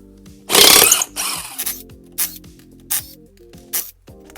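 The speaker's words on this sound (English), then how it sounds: "So I'm gonna go ahead and do that using the 1/2-inch cordless impact." A 1/2-inch cordless impact gun spins lug nuts off the wheels of an RHD Integra: one long, loud rattling burst, then several shorter bursts spaced out, close up with a steady low hum underneath.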